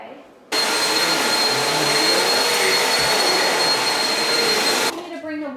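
A household vacuum cleaner switches on abruptly and runs with a loud, steady whining roar for about four seconds before cutting off, with faint room noise before and after.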